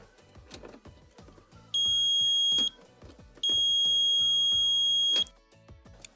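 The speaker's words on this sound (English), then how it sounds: "When I put my meter leads on here, we should hear an audible tone showing us that it does have continuity if it is good." A multimeter continuity tester held to the terminals of a Samsung stove hi-limit thermostat gives two steady, piercing beep tones, the first about a second long and the second nearly two seconds, over a busy background of clicks and knocks.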